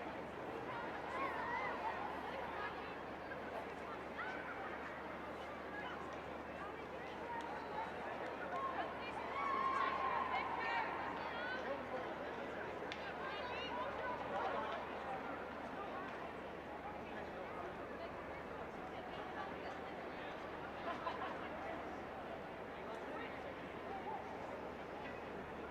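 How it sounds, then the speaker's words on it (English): A crowd at a camogie club championship final between Cahir and Eyrecourt keeps up a steady, distant hum of cheering and murmur throughout, under continuous commentary. "Crowd really getting into this."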